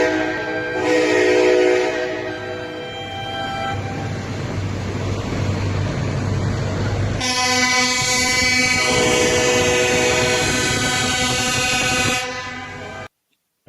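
Truck horns blare in support of a farmers' protest in Amsterdam: long, loud, sustained tones that overlap and shift in pitch for several seconds, with the blaring continuing almost without a break.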